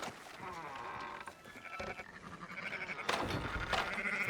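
Sheep in Red Dead Redemption 2 bleat repeatedly over a busy, layered background of animal calls and ambient noise, fairly close and moderately loud.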